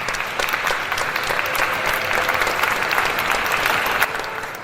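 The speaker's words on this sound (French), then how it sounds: "on peut applaudir nos invités le temps que Manu arrive" Lively audience applause for guests at a live trail-running talk event, a dense, steady crowd of clapping with a few sharper claps standing out near the end.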